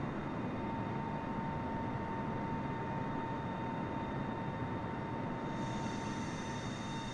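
Aircraft engine held at full power in Microsoft Flight Simulator, climbing out near Heathrow, gives a steady, unbroken drone with a constant whine on top, loud and continuous with no talk.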